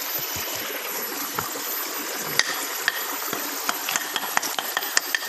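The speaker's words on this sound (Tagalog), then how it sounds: "Dito kami ngayon sa sapa." A small creek flows with a steady, close rushing and babbling, scattered sharp clicks and knocks sounding over the constant water noise.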